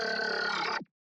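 A pitched-down vocal processed with a growl preset and snap heap produces a dense, buzzing, grunt-like tone that holds for under a second and then cuts off abruptly.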